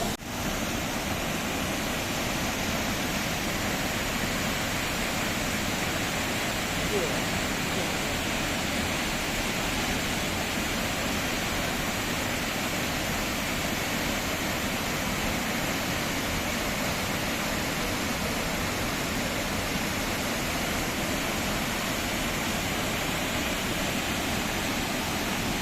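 Devi's Fall waterfall roars as a steady, dense wash of falling water, loud and unbroken from start to finish with no voices.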